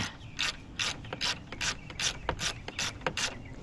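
A ratchet backs out a 10 mm bolt on a 2013 fourth-generation Ram 1500 during a windshield washer pump replacement, giving about eight short bursts of clicking in a steady back-and-forth rhythm, close and clear with no talk.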